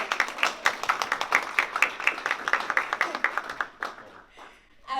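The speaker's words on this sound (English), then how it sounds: "let's have a round of applause for her" A small audience claps for a newly accepted Fresno State MFA student at a poetry journal launch, a brief burst of distinct individual claps that thins and fades out near the end.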